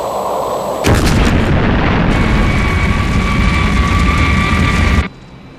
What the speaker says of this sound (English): Clayton, missiles 5 and 6, destroy them.